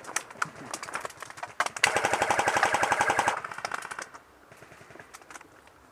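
Rapid machine gun fire crackles in a military video game battle, with dense, fast bursts building to a sustained volley before fading to scattered, quieter shots.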